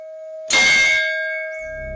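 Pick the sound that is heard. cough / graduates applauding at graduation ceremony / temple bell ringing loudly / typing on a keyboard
temple bell ringing loudly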